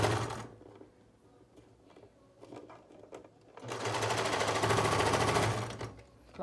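Sewing machine stitching viscose fabric for a beach cover-up, two bursts of rapid mechanical whirring separated by a quieter pause, close and fairly soft.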